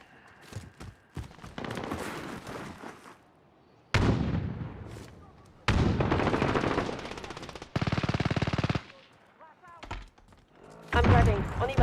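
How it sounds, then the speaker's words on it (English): A sentry gun in Call of Duty Modern Warfare firing loud, rapid automatic bursts, with gaps between them and other game sounds between the bursts. "Friendly sentry gun online."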